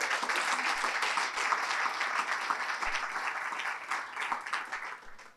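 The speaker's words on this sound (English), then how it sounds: "Big round of applause for His Excellency one more time." An audience at a policy talk on Canada's engagement with Africa claps loudly for a speaker, a dense, sustained roar of many hands that slowly fades toward the end.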